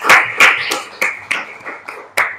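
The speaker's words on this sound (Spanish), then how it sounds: "Muy bien, un aplauso." A handful of people clap after a history lecture, sparse distinct claps spaced irregularly, close and fairly loud, with no crowd roar.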